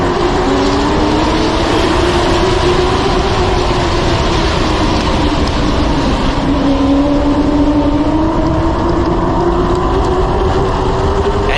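Limited late model stock cars racing at Florence Motor Speedway, a loud continuous engine roar from the pack at speed that swells and shifts in pitch as cars pass, with no talk over it.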